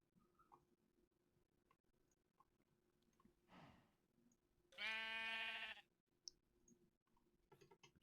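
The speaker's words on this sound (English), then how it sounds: "There's sheep." One clear sheep bleat from Minecraft, lasting about a second, with faint clicks and soft game sounds before and after.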